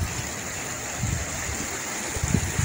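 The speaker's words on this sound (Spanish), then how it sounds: "río en San Miguel," A river in San Miguel Oxtotilpan flows with a steady, loud broadband rush of water, close and continuous, with occasional low gurgles.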